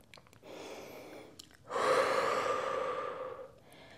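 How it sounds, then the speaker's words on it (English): Slow, controlled breathing during a cool-down stretch in a glute workout: one soft breath near 0.5 s, then a long, steady breathy exhale from about 1.7 to 3.5 s, close and alone with no talk. "Drawing nice deep inhales into the back of the rib cage and slow controlled exhales out through pursed lips."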